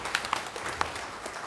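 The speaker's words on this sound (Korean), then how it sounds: "영광의 박수로 하나님께 드리겠습니다." A church congregation claps during a Sunday worship service, faint and thin, with a few scattered sharper claps over a soft background texture.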